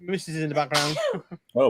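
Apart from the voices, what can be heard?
sneeze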